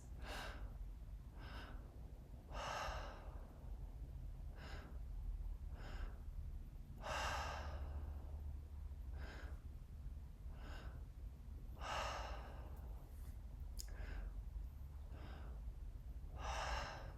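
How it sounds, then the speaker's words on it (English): Mouth breathwork: a repeating pattern of two quick, sharp inhales through the mouth followed by one longer breathy exhale, close and steady over many cycles with no talking. "this breath pattern is 2 inhales, 1 exhale, all through the mouth"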